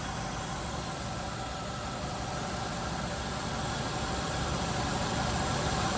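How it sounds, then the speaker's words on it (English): An LS1 V8 idles with an odd noise coming from around the injectors, a steady, dense mechanical drone that holds at an even level throughout with no talking. "I don't think I've heard injectors make that noise, but that's kind of where the sound's coming from"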